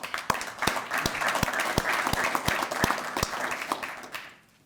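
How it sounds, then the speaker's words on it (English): Steady applause from an audience at an outdoor ribbon-cutting ceremony celebrating the energizing of an electric transmission line. The clapping is dense, with a few sharp, close claps standing out, and it fades away near the end. "Applause."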